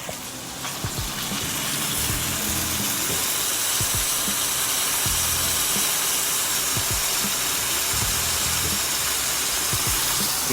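A chicken caprese sandwich pressed in a hot saute pan over medium heat sizzles and hisses steadily and loudly, with occasional crackles popping through the continuous frying.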